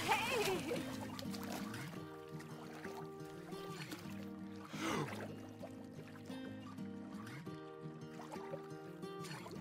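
Water splashes and pours in the horror video game The Quarry, soft sloshing and trickling bursts over a low layered game soundtrack, fairly faint throughout.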